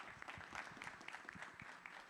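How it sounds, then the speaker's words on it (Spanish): Faint applause from a conference audience at an international artificial intelligence congress, a soft patter of clapping heard briefly and at low level. "Un aplauso para Julio, por favor."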